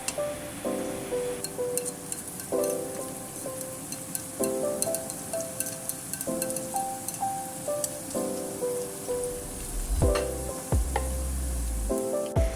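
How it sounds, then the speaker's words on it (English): Garlic and green onion pieces frying in hot oil on a stove for beef tendon, with a steady close sizzle and repeated stirring scrapes, plus a few heavier clatters near the end. "Then, when the garlic pieces are little brown, then add in green onion pieces."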